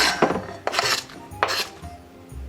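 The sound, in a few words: knife slicing radish into half rings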